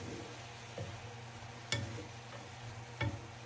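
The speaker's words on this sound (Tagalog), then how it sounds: "Haluin lang para mag-spread yung lasa." Pancit noodles tossed with soy sauce and oyster sauce in a pan, giving a soft steady low scrape and sizzle with a few sharper utensil knocks spaced apart.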